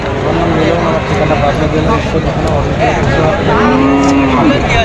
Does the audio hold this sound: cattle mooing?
yes